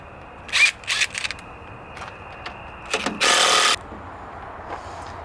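Bolt being undone on a Land Rover Defender 90 seatbox: a few short close ratchet and metal clicks, then a longer harsh rasping burst of a ratchet tool, quiet otherwise.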